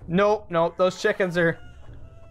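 Chickens cluck in a rapid run of five or six loud, close squawks in the video game Totally Accurate Battle Simulator, stopping abruptly into quiet background noise; a voice speaks briefly.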